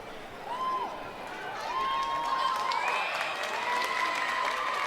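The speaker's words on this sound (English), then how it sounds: "Crowd's still trying to get the team fired up." High school football crowd at Puyallup versus Evergreen, a broad roar of cheering and clapping from the stands that swells and holds, with rising whistles or shouted calls riding over it and a commentator talking.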